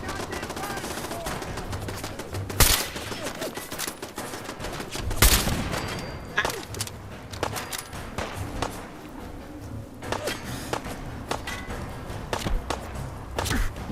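Gunfire in the video game Fallout 4, a few sharp loud shots spread irregularly among quicker clustered bursts and thuds over a background game ambience.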